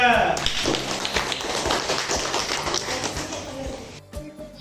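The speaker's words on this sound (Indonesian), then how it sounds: "Tepuk tangan untuk kelompok 2" A classroom of students breaks into dense, sustained applause for a group of classmates, the clapping rolling steadily for about four seconds before stopping abruptly, with voices mixed in.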